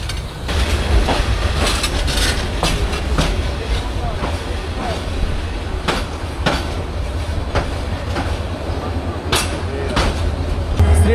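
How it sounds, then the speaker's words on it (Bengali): The Upaban Express passenger train rolls along the rails near Srimangal station in Bangladesh, with a steady loud rumble and recurring sharp clickety-clack wheel beats over the joints, and talk heard faintly underneath. "শ্রীমঙ্গল স্টেশনের আগ দিয়ে আমাদের ট্রেন আবার দাঁড়িয়ে গেল।"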